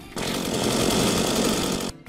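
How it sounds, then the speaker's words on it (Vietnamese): A chainsaw in Minecraft runs in one sustained, loud rattling buzz that starts abruptly and cuts off near the end. "các bạn nghe tiếng máy cưa không?"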